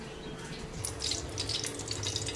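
Jar being washed under a running kitchen tap, a steady hiss of flowing water with splashes and drips close by, no voices.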